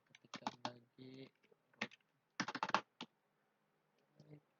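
Bursts of keyboard keystrokes while router commands are typed, quick clusters of close clicks separated by short pauses, with faint voice-like tonal fragments between them.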